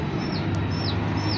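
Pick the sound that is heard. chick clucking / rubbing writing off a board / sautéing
chick clucking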